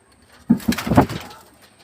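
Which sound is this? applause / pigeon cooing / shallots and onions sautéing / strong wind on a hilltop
pigeon cooing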